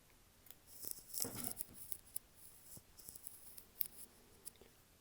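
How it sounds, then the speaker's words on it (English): Scissors snip through medium dark olive and yellow chenille for fly tying, giving a few faint, close crisp cuts spread across a quiet stretch. "I'm gonna cut 5 or 6 inches as well"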